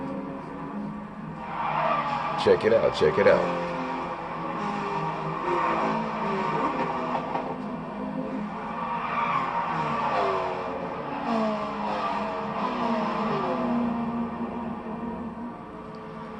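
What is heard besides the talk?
N300 race cars racing and skidding in a video game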